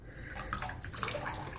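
Water splashes and drips as a wet shaving brush is squeezed out, a short burst of soft trickling and spattering close by in a quiet room.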